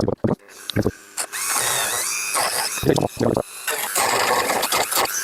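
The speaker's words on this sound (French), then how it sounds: "je vais prendre un disque à découper, je vais venir là" Small cutting disc tool biting into a plastic Peugeot 406 coupé bumper, a loud high whine in bursts that starts and stops, with brief talk between cuts.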